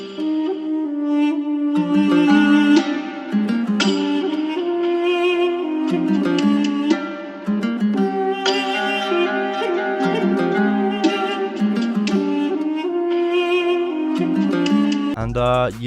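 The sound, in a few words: Arabic-style trap melody with EQ and reverb in FL Studio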